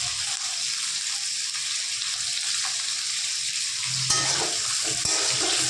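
Cauliflower florets fry in a pan with a steady, close sizzle and a few stirring scrapes near the end, with no talking.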